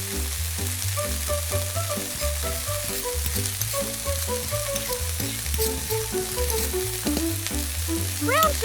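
Garlic, onion and butter sizzle in cooking oil in a pan for street-food noodles and chicken wings, a steady frying hiss running throughout, with strong tonal music sitting on top of it.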